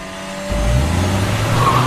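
A race car roars in at full volume after a half-second lead-in, its engine note holding steady while tires squeal and skid across the remaining stretch, loud and close with no talking.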